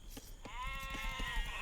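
A sheep bleats in the real-time strategy game Age of Empires, a single drawn-out wavering bleat over low background game ambience, fairly faint, with no talking.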